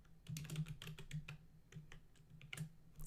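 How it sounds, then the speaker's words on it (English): Someone typing HTML on a computer keyboard, quiet close key clicks in quick irregular bursts with brief pauses, alone without talking. "let me see if I can type some HTML here"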